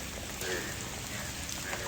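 Heavy rain falls as a steady, dense hiss on surfaces around a rural home and fields, uniform and fairly quiet throughout, with no voices.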